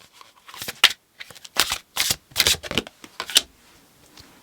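Tarot cards being shuffled and riffled in a series of crisp, papery bursts with short pauses between, close and fairly quiet, no talking.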